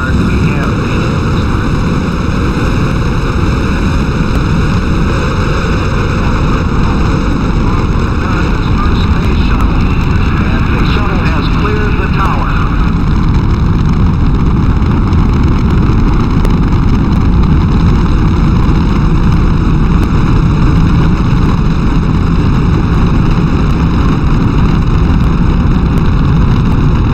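The Space Shuttle STS-1 main engines roar at launch as a steady, loud, broadband rumble that holds for the whole stretch, with a voice faintly audible underneath.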